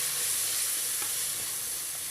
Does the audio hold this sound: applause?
no